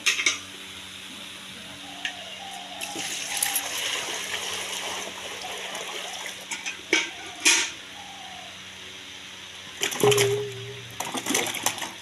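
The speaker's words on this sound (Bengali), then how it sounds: "এই গামলায় আমি জল ঢেলে দেবো" Water splashing into a basin for washing mangoes, irregular bursts of pouring and splatter close by, with quieter gaps between and a brief tonal sound near the end.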